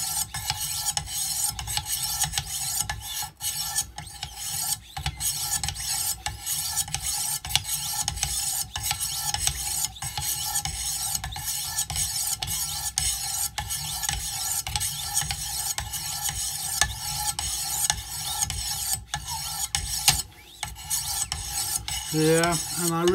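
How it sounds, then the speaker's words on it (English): Wicked Edge WE130 sharpener stones grind along a knife blade's edge in quick, rhythmic rasping strokes, repeated steadily and up close with no talking. "You can hear that sound. This is where the grind begins, to make sure that the edge goes all the way down the blade."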